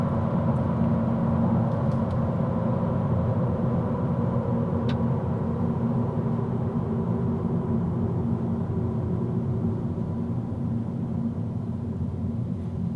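Steady, even road and engine rumble fills the cabin of a 2022 Honda Civic Touring while driving, a low, constant drone with no voices for the whole stretch.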